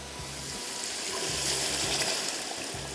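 Yakhni stock is poured into rice for Sindhi yakhni pulao, making a soft, continuous liquid rush and gurgle that stays fairly faint and even throughout.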